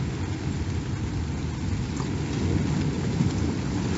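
Steady heavy rain and a thunderstorm rumble outside a military bunker in Albania in winter, a constant dense hiss with low rolling thunder underneath throughout.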